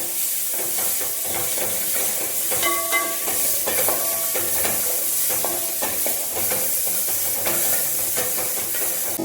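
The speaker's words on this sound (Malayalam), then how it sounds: "നമ്മളെടുത്ത് വെച്ചിരിക്കുന്ന ഈ ചെറിയ ഉള്ളി ഇട്ട് കൊടുക്കുക. എന്നിട്ട് ഇതൊന്ന് ചെറുതായിട്ടൊന്ന് 2 മിനിറ്റ് വഴറ്റുക." Small onions (shallots) for hotel-style sambar sautéing in a hot pan, giving a continuous loud hiss and sizzle with occasional stirring clinks and scrapes, and no voices.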